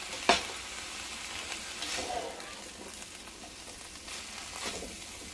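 Cabbage soup ingredients fry in a large pan, a soft steady sizzle with occasional stirring scrapes and a sharp clink near the start, fairly quiet throughout.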